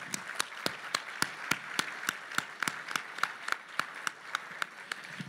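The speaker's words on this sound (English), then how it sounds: "A big round of applause, please, for all three of these very, very deserving honorees." Applause for honorees at an anniversary gala, heard as a distant, fairly quiet wash of clapping with distinct individual claps ringing out in a steady rhythm.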